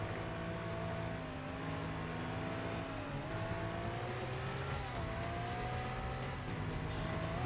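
Racing car engines from the Stuntman video game during a chase after a sports car, a steady loud engine drone with rising and falling pitch as gears shift, continuous throughout with no talk.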